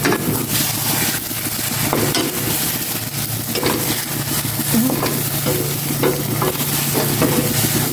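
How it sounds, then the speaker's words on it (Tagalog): An egg fries in hot oil at home in the morning, giving a loud, dense, continuous sizzle and crackle up close, with faint spatula scraping now and then and no speech. "Iprito ko na itong itlog."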